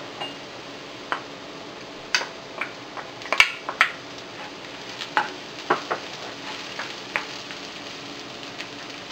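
Onions and ginger frying together in a pan for spicy bopis, giving a soft steady sizzle broken by scattered ticks and light stirring clicks, with no voices.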